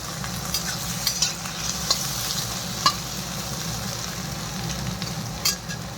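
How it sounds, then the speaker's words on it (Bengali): Garlic fries in a pan for a Punjabi kadhi, giving a steady soft sizzle with several sharp scraping clicks as it is stirred, close and moderately loud, with no talking. "রসুনটা দিয়ে একটু ভাজা ভাজা করে নিই।"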